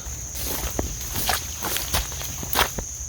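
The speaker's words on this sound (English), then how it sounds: "Wasn't that just a beautiful sound of my feet sloshing?" Footsteps slosh and splash through shallow water in an uneven rhythm, close by, with a faint constant insect-like whine in the background.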